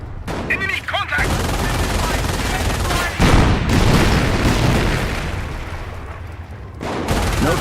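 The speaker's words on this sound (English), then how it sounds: "Notice the Panzer's slow rate of fire." A Panzer tank fires in the Company of Heroes video game amid dense battle noise: heavy booms and bursts of gunfire with an intermittent rumble, while game voices shout briefly.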